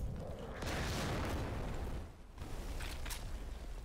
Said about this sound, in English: is that enemy artillery on B?